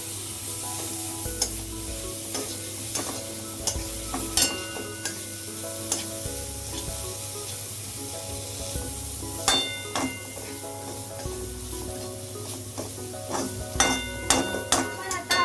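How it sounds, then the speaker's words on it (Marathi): Green peas stir-fried in a pan with oil for a samosa filling, with a steady sizzle throughout and frequent clinks and scrapes of a spoon stirring against the pan. "आपण यात आता मटार टाकून घेऊया मटार थोडे शिजू द्यायचे"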